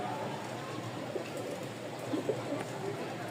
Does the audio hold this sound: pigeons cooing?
yes